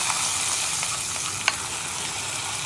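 Hot tempering poured into a bitter gourd buttermilk curry sizzles with a steady, even hiss and one small pop partway through, with no voices.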